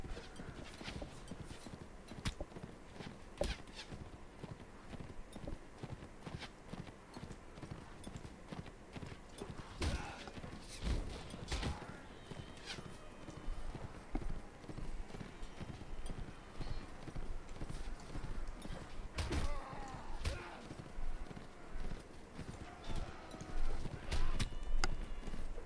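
Horse hooves clip-clop steadily in the Mount & Blade: Warband video game, a continuous close rhythmic trot over battle ambience, with faint talk mixed in.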